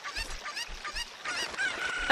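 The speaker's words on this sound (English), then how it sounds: "I actually don't like using the chickens or the cuckoos." Cucco chickens from Zelda: Ocarina of Time squawk and cluck in a busy, repeated chatter, high honking calls rising over the game's background sound, with no talk.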